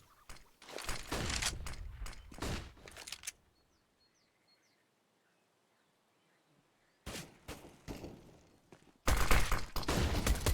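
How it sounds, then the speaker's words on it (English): USP pistol and M4 rifle gunfire in Counter-Strike on the Inferno map, loud close bursts of rapid shots, then a stretch of near silence, then two more sharp volleys. "USP shots on shots for Adern, doing only a little bit of damage. The M4 is actually the thing that gets the kill"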